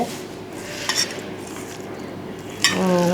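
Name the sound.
stirring onion, garlic, green chili and salt sizzling in pan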